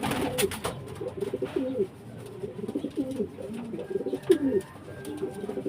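Click, a pet pigeon recovering from illness, coos in soft repeated low phrases close by, with gaps of quiet between bursts and faint background noise.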